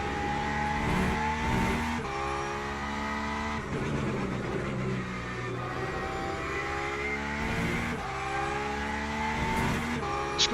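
A hypercar in a racing video game pushes hard into a turn, its engine droning loud and steady with shifting revs and a brief tire squeal, close and continuous throughout.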